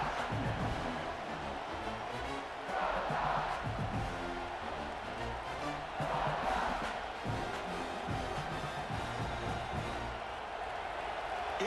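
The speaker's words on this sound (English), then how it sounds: "It's early, but this crowd is fired up. Listen to this noise here." A college football video game stadium crowd in a Texas Longhorns versus Georgia Bulldogs matchup, a continuous roar of cheering with swells, heard at a distance under game commentary.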